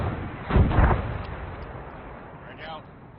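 A frag grenade explodes in a military video game, landing as a heavy, close boom with a short decaying rumble, followed by quieter game ambience.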